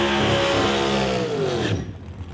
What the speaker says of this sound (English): Now Mike Barron turning some RPM on the burnout. That thing was singing.